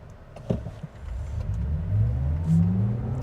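A 2026 Cadillac Vistiq SUV launching from brake torque on a 0 to 60 run, a brief thump followed by a steadily rising engine and drivetrain drone heard from inside the cabin, growing louder without speech.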